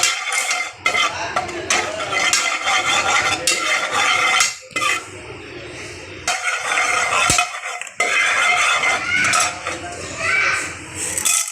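Sugar and popcorn get stirred in a pan with a metal utensil, loud irregular scraping and rattling in bursts separated by short pauses, with faint kitchen sounds between strokes.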